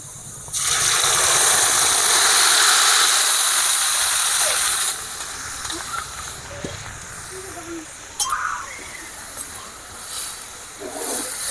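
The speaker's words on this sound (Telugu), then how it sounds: "తిరగమంతలో పోసేస్తున్నా" Cooked dal and leafy greens poured into a hot onion tempering, giving a loud rushing sizzle that hisses steadily for about four seconds and then dies down to soft bubbling and faint clinks.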